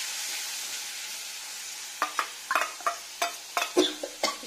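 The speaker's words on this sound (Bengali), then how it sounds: "এগুলো সব একসাথে কষিয়ে নেবো।" Poppy seed, green chilli, ginger and roasted peanut paste frying in a pan for a vegetarian potato and pointed gourd curry, with a steady soft sizzle and several sharp stirring scrapes and spatters, close and without talk.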